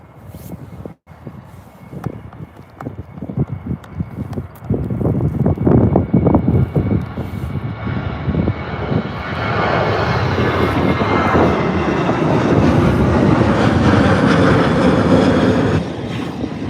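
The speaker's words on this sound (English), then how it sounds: "Ryanair wasting no time in the 737." A Ryanair Boeing 737 moves at Birmingham airport, its jet engines rising from a low rumble to a loud, sustained roar that holds steady for most of the clip.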